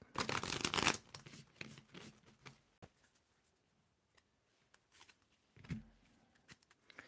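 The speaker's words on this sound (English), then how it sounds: "I'm going to do a shuffle and mix the cards up." A deck of tarot cards gets riffled in a quick burst, followed by softer shuffling and scattered light taps with long quiet gaps.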